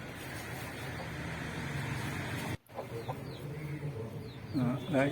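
A brooding country hen shut in over her eggs makes low, soft clucks and murmurs under a steady background hum, with a brief break midway and slightly louder clucking near the end.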